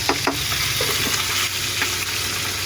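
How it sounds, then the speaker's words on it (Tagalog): A pot of cooking rice is stirred, with close scraping and clinking of the utensil over a continuous bubbling sizzle, brief and without any voices. "Haluin natin para masarap ang kanin."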